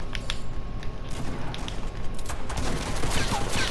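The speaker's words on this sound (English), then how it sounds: "Dylan, don't let him shoot me" Gunfire in the Fortnite video game comes as a rapid fusillade of shots, bursts of cracks layered over a dense game-audio bed at moderate loudness.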